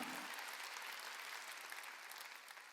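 A church congregation applauds during a Sunday worship service, a dense, steady wash of clapping that carries on alone and tapers slightly near the end.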